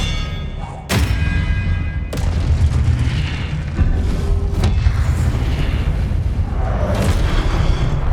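Spell blasts and explosions from the video game Hogwarts Legacy come as deep booming impacts and heavy thuds, loud and close over a constant rumbling roar.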